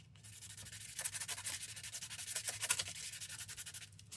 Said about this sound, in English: Let's just sand this part so it's easy to glue to as well